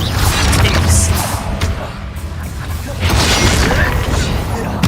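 Bombarda spell explosions in the game Hogwarts Legacy, repeated deep booms and crashing impacts in two loud surges amid steady combat noise.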